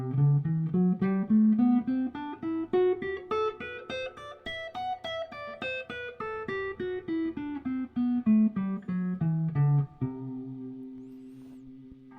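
A guitar plays a scale note by note, climbing steadily and then descending, clean plucked tones at an even pace, ending on a sustained chord.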